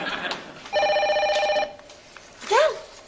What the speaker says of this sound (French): Regarde, ça sonne encore!